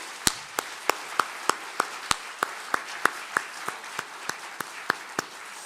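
A church congregation claps together in slow, evenly spaced single beats, about three per second, each clap sharp and distinct with a quiet pause between.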